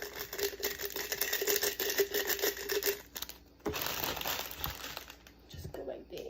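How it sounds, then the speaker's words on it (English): A Floral Life flower food packet being cut open, with crisp, continuous crinkling of plastic that pauses briefly, then resumes in short rustles and snips close by. "take this Floral Life stuff, flower food, cut it up, put it in the water"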